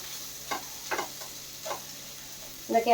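Peeled potatoes and vegetables sautéing in a pan over low heat for veg cutlets, a steady soft sizzle broken by a few spatula stirs and a brief clatter near the end.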